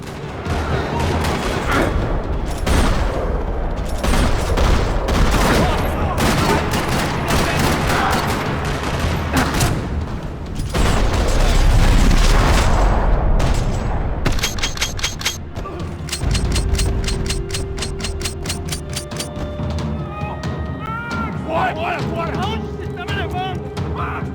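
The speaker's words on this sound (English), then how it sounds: "Another parking lot rattling with gunfire." Rapid gunfire rattles through a parking lot in Max Payne 3, loud and sustained bursts of automatic fire and shots layered with booms, continuing for over twenty seconds with a brief lull midway.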